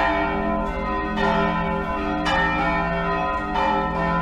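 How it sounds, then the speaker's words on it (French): Church bells of the Belém cathedral in Brazil ring loudly and close, their tones layered and sustained, with fresh strikes landing every second or so. "Bon, du coup je vais te montrer les cloches en attendant."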